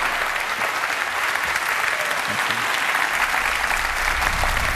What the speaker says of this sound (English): give Bridget a round of applause for trying